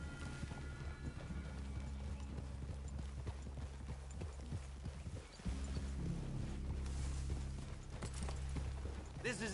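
Steady clip-clop of horses walking in Red Dead Redemption 2, a continuous rhythmic hoof pattern under a low droning game soundtrack, with no talking.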